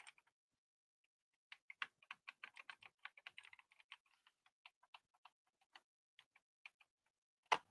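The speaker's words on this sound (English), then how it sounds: "Let me get something typed here real fast." Fingers tap out a short burst on a computer keyboard, soft, quick, uneven clicks that thin out toward the end, faint and close in an otherwise quiet room.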